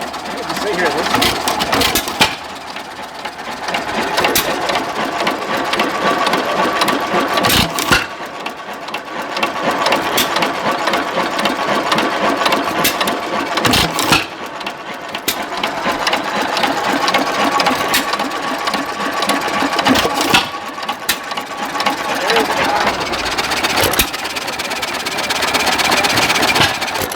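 An old Fairbanks Morse diesel engine runs with a steady, rapid mechanical chugging, loud and close, holding an even pace throughout with faint voices in the background.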